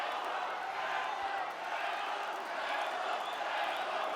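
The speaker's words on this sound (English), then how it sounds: "Crowd now getting behind Wessel Mostert as Andrew is on the ascendancy" The crowd at a heavyweight title boxing fight roars steadily throughout, a continuous, fairly distant wash of cheering and shouting with a faint voice underneath.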